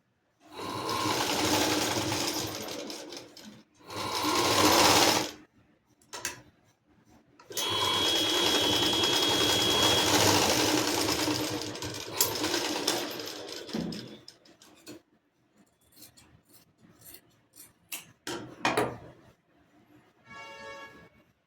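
Sewing machine stitching blouse fabric in several loud, close bursts of rapid whirring, separated by pauses filled with lighter clicks and handling sounds.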